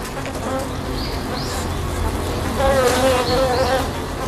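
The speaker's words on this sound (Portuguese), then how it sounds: "Vibrando os músculos de suas asas, as abelhas estão cozinhando a vespa." A dense, steady buzz of honeybees vibrating their wing muscles fills the clip, a close droning hum with a brief higher whine swelling near the end.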